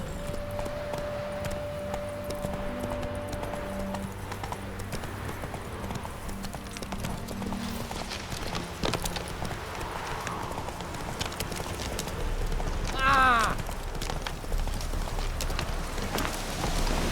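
A horse gallops in The Witcher 3 video game, its hooves making a steady rapid clip-clop on the ground with light ambient rain and a brief whinny partway through.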